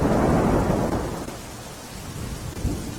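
Heavy monsoon rain pours down in Tapi, South Gujarat, a dense steady hiss joined by deep rolling thunder at the start and again near the end, with no voices.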